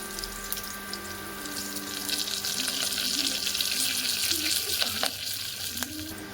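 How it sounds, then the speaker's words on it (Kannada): Curry leaves frying in hot oil with garlic for a green gram masala sambar, a close, steady sizzle with occasional stirring clinks and a faint background hum. "ಈಗ ಕರಿಬೇವನ್ನು ಹಾಕೊಳ್ಳಿ."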